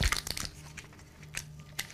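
Newsprint paper crinkles and crumples in short, close bursts while being packed around a painting, with irregular crackling rustles.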